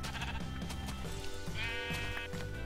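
Sheep bleating in the video game Minecraft, several short nasal bleats repeating over a steady background of game music, fairly close and clear, with no talk.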